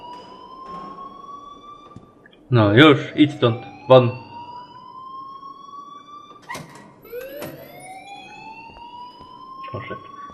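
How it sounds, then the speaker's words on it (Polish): An alarm in Life Is Strange sounds as steady rising electronic sweeps that repeat through the scene, while someone speaks loudly over the middle of it. "please turn off that alarm since that's your job"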